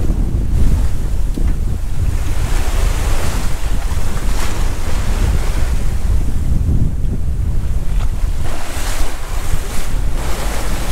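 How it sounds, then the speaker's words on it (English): Steady wind roar and breaking waves surround a sailboat far offshore, with buffeting wind noise on the microphone and continuous surf rushing throughout, no voices. "It's a little bit windy today."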